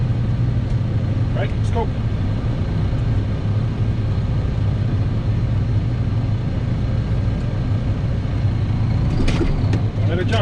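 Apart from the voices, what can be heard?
truck engine while the driver shifts gears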